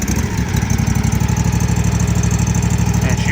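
Zero turn lawn mower engine running smoothly, a loud, steady close-up idle with a fast even pulse and no pauses.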